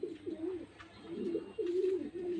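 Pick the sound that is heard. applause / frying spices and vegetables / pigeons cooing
pigeons cooing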